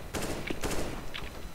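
Rapid gunfire from the video game CS:GO, several quick shots in close succession over a noisy game background, moderately loud with sharp cracks and short bursts.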